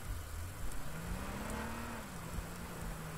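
Car engine in the H1Z1 survival video game, a steady low drone with a gently rising and falling pitch, continuous and fairly faint over a hissy background with no talk.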